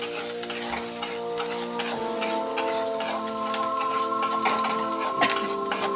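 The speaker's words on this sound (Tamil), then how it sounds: "இதை வந்து கொஞ்சம் கிண்டிக்கலாம்" Onions frying in a pan while being stirred, with a steady sizzle under repeated scraping and tapping strokes of the spoon against the pan, close and clear with no talking.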